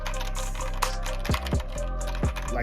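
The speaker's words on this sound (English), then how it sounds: "Basically clacking noises" ASUS ROG Azoth mechanical keyboard keys clack rapidly at close range, an irregular run of sharp taps with a few louder, heavier strikes.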